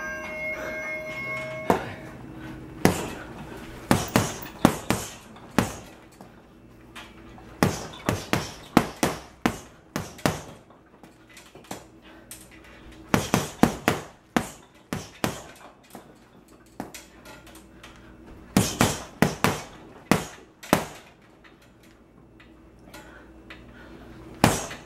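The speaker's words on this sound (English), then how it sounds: "I'll probably just do one more on the heavy bag." Punches landing on a heavy bag during a boxing workout, sharp irregular thuds in quick flurries and single shots with brief gaps, close and loud.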